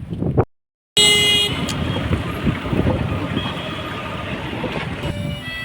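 A train rumbles past at close range, a steady roar of wheels on track with a few brief horn-like tones riding over it after a short silent gap.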